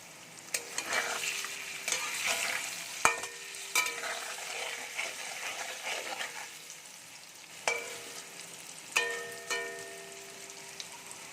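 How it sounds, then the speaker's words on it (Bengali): Paneer pieces fry lightly in oil with a soft, moderately quiet sizzle. Scattered metallic clinks and taps from a spatula or pan come through at irregular moments. "পনিরগুলো হালকা করে ভেজে তুলে নেব।"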